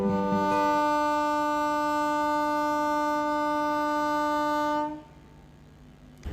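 A narrow gauge train's horn blares long and loud, steadily for about five seconds, rich and harmonic, then cuts off, leaving a quiet station background, in Gujarat, India.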